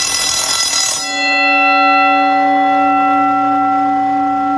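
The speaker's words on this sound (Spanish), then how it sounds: "el timbre volverá a hacer su funcionamiento fuera del horario normal" A timer-controlled electric school bell rattles briefly, then settles into a loud, steady ringing buzz that holds at an even pitch for several seconds with no voices.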